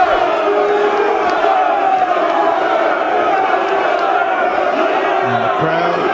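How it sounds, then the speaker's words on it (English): A packed arena crowd at the Mosconi Cup pool event roars steadily throughout, a dense, loud wash of cheering and shouting urging on Team Europe. "the crowd is trying to encourage Team Europe"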